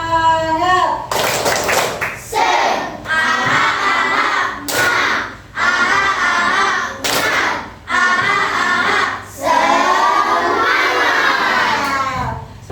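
A classroom of children doing the 'tepuk semangat' clapping chant, loud rhythmic bursts of sharp claps alternating with shouted chanting voices, repeating in short phrases close by.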